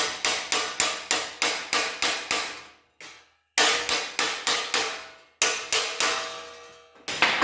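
An old hammer taps a raised seam into rusty sheet metal, striking in steady quick rhythmic runs of ringing blows, loud and close, with brief pauses between runs.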